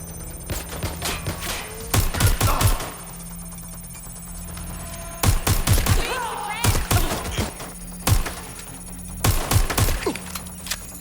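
Bursts of gunfire in the video game Watch Dogs: Legion, loud clustered volleys separated by short pauses, with a steady hum of game music and ambience underneath.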